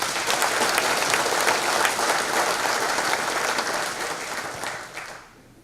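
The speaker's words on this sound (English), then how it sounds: "How about a round of applause for Jerry?" Audience applause for Jerry at a Michigan wheat program meeting, steady dense clapping from a room full of people that tapers off near the end, with no talk over it.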